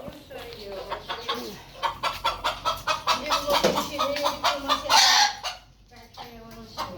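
Chickens and young chicks on a city rooftop give a run of loud, close, rhythmic clucks and calls, with a brief louder squawk near the end.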